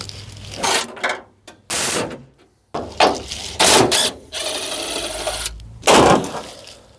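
A compact DeWalt power tool works the fender bolts off a 1982 Ford F150 truck, with several short, loud bursts of whirring and rattling separated by brief pauses.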